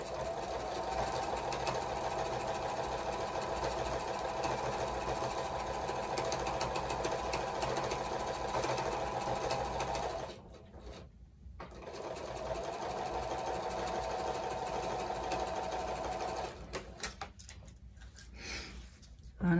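Close, steady hum of a sewing machine stitching quilt pieces of half-square triangles, running continuously, pausing briefly midway, then resuming before a final stop.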